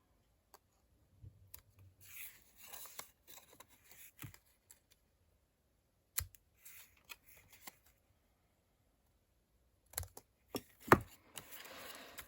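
Scissors snip the ends of folded paper cutlery holders for a Thanksgiving dinner table: a handful of quiet, close, crisp cuts scattered among pauses, with no talking.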